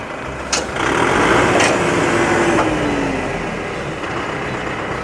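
A tractor pulling a seeder drives off across a field after sowing barley, its engine loud at first with a falling whine, then slowly fading as it moves away.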